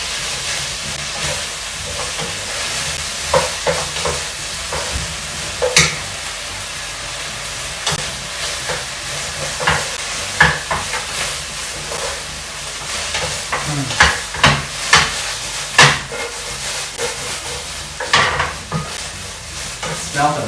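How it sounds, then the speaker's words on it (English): Tofu sizzles and is stirred in a pan while being coated in sweet chili sauce, with steady frying hiss broken by repeated scraping stirs, some louder clatters toward the end. "And then just coat all the tofu up with sweet chili."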